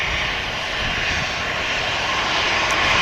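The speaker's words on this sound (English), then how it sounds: "that allows the runway to be clear enough for the Saudi Dreamliner to start her move over to runway 2" Loud, steady roar of a Saudi Boeing 787 Dreamliner's jet engines as the airliner taxis toward the runway at Manchester Airport, a continuous broadband whine with no voices.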